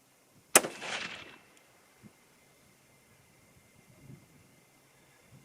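A single sharp rifle shot from a 6.5 Creedmoor firing a 130-grain Swift Scirocco II bullet, a loud crack near the listener with a short decaying tail, followed by faint background noise.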